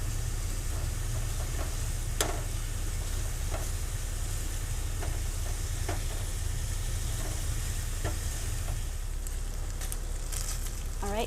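Meat pieces browning in a pan inside a camper van kitchen give off a steady, even sizzle, with a few sharp clicks and taps from tongs turning them scattered through.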